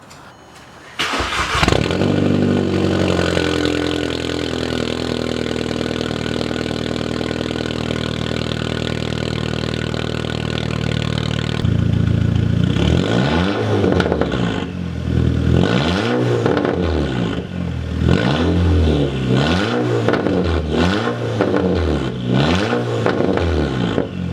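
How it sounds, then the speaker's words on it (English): Audi A3 8P Quattro fitted with a catted HPA 3-inch downpipe and no mufflers fires up loud and idles with a raspy drone, then breaks into repeated sharp revs rising and falling in a rhythmic pattern, close by. "this is the first startup of the 3-inch HPA downpipe with no mufflers, but this is the catted HPA downpipe"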